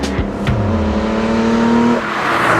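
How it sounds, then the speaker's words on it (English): A 1972 Holden XU1 Torana race car engine revs loudly and close, its pitch climbing steadily then dropping off sharply near the end, with a brief burst and rumble at the start. "Still an incredible little engine, and they send a shiver down your spine at high RPM."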